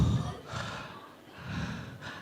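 A voice imitates snoring in two drawn-out breathy snorts with a short pause between them, close and moderately loud, during a religious talk.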